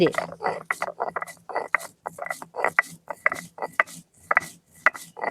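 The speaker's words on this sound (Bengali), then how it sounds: "এবার মশলাপাতি বেটে নেবো" Spices are ground on a flat grinding stone with a rhythmic series of rough scraping, knocking strokes, close and fairly loud, separated by brief pauses.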